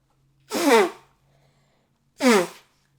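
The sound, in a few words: sneezing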